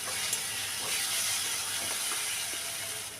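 Rice with chilli powder and ground coriander-cumin sizzles and hisses steadily in a hot pan, a continuous close frying sound with no talk.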